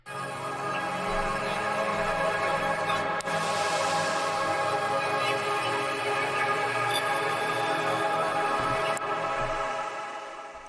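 A dark, heavily processed piano sample with added effects, a dense, sustained wash that holds steady and loud throughout before fading slightly at the end.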